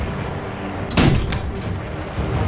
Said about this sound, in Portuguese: tacaram artilharia em mim aqui